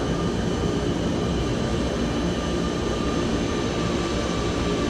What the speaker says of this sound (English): it sounds to me like we've got a shit ton of planes behind us